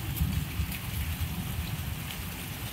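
Heavy rain falls steadily during the first rain of the season, a dense continuous hiss and patter of drops on surfaces, close and loud with no voices.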